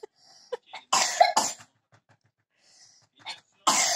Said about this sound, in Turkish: Öksürüyorsun ya.